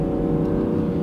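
A truck accelerates hard on a small drag strip, heard from inside the cab as a loud steady engine drone and whine under full load, with no talking.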